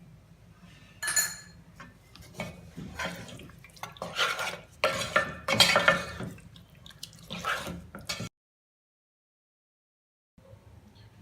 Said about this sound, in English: I am adding 2 spoons Amul fresh cream